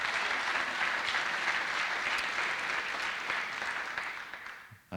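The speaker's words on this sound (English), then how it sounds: "So how about a round of applause for Rod?" A school-district staff awards crowd applauds a retiring Morton High School employee with 14 years of service, dense steady clapping at even strength for the full stretch, then cutting off abruptly near the end.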